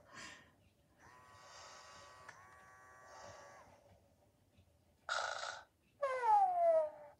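A Little Live Cuddles toy kitten snores in two short bursts near the end, a hissy breath followed by a louder wavering purr-like snore, after quieter whirring tones.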